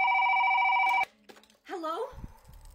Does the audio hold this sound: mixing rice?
no